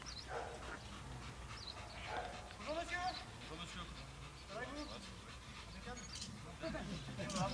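A dog barks and yelps in short excited bursts during bite-work attack training, with people talking over and between the barks in a fairly noisy outdoor setting.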